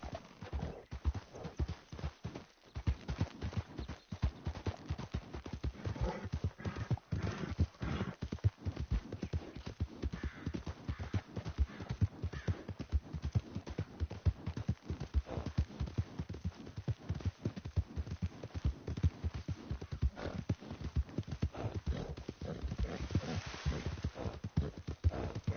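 Horse hoofbeats in the video game Red Dead Redemption 2, a fast, steady clip-clop rhythm of galloping running throughout, with a brief whinny and no talk.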